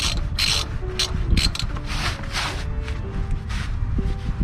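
A ratchet wrench works the sway bar bushing bracket bolts loose on a 1997-2004 Dodge Dakota. Close, continuous scraping and clicking of the ratchet runs throughout with no talk, broken by short metallic ticks.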